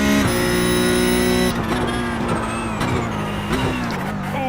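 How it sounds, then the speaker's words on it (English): A Porsche Cup car in iRacing at Sebring whines loudly under braking as the transmission squeals, the high-pitched drivetrain tone shifting and wavering through repeated downshifts. "you can hear the transmission struggling, having a little squeak"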